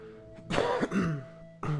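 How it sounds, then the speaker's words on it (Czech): A single short throat-clearing cough, then a second brief cough-like burst from a man, close and fairly clear against near silence. "A to kašlu."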